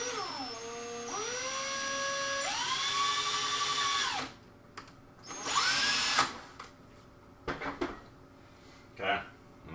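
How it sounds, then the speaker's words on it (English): A power drill bores a hole through the top end of a piece, its motor whining up and down in several long bursts, then shorter stop-start pulses toward the end. "being careful with the drill bit"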